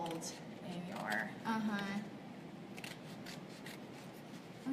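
Scissors cut through craft paper for a Father's Day kids' craft, giving a few close, crisp snipping and rasping strokes with quiet talk around them.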